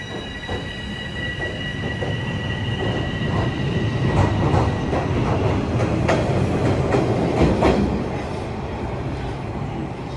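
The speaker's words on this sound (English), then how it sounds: "this is a southbound train going to Union and then heading back up to Vaughan." A TTC subway train runs through North York Centre Station in Toronto, giving a steady loud rumble of rolling cars with rail clatter, faint wheel squeal and a high whining tone throughout, with no talking.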